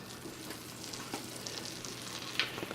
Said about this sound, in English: And pineapple slices go in the butter. Turn that heat up a little bit.